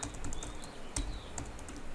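Keys clatter in quick irregular clicks on a computer keyboard while a Sony entry is typed into an Excel spreadsheet, with a sharper keystroke near the middle, close and steady, and no voices.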